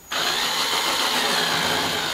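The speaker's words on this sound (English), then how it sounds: "a little circle starts to get cut by the outer edge of that drill bit" A drill bit bores into a plastic bucket to make a hole for a water filter, a steady, loud whirring grind that starts abruptly and holds continuously throughout.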